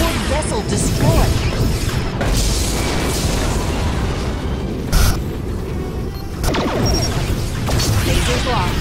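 A Borg ship explodes in the Star Trek Legacy space battle game, a dense, loud roar of blasts and crashes with sharper bangs, under intermittent voices.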